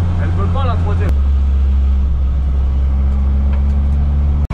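Race car engine at Croix-en-Ternois circuit droning loudly with shifting pitch as the clutch slips in third gear, a sustained close engine note with a brief voice early on.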